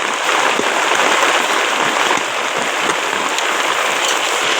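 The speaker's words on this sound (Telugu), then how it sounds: "వర్షం జోరు కురుస్తుంది చూడండి" Heavy rain pours down in a village, making a loud, dense, continuous hiss of drops striking surfaces close by.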